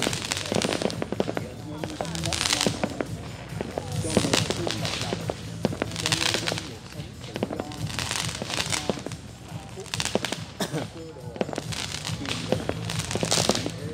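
New Year's Eve fireworks burst over a Vietnamese village, mostly military-issue shells: repeated loud booms and crackling volleys in clusters every second or two, with people talking underneath.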